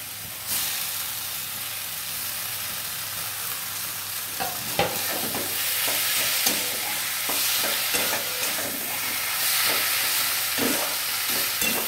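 Banana flower mixed with grated coconut frying in a pan, steady hiss of sizzling with a utensil stirring and scraping in repeated strokes through the latter half, no voices.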